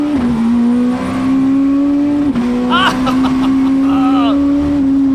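A T56-equipped car engine pulls hard under load, its pitch climbing, dropping sharply through a 3-4 gear shift, then climbing again. The engine is loud and close, with voices speaking over it partway through.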